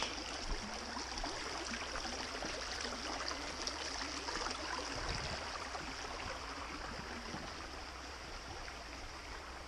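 Faint, steady rushing of a creek flowing over rocks along a Pennsylvania mountain trail, a continuous soft hiss of running water with no voices.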